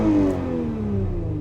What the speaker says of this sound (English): my exhaust gets louder.